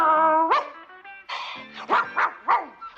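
A dog gives a high whining call, then lets out a rapid series of five or six sharp, close barks in an uneven rhythm.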